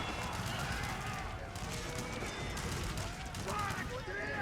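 Ranged units fire in a busy battle in Age of Empires 4, a steady clatter of shots and impacts under a continuous roar, with voices present.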